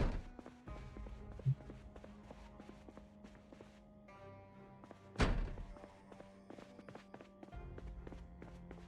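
In Project Zomboid, a zombie thumps on a door somewhere nearby, with dull repeated knocks and one heavier bang standing out over steady game ambience and music.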